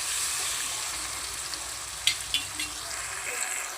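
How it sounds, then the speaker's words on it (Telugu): Ginger garlic paste fries in a hot pan with a steady, close hiss that barely changes, broken by a couple of small spatula taps near the middle. "అల్లం వెల్లుల్లి పేస్ట్ అయితే వేసుకోవాలి. ఇది కూడా ఫ్రై అవ్వాలి బాగా."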